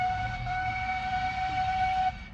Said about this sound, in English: That's the steam train in the Marine Lake, have you heard that?